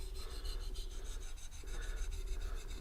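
A Schrade Frontier SCHF42D knife drawn back and forth on the 1000 grit side of a whetstone, a quick, even rasping rhythm of short strokes, close and quiet, with no talk.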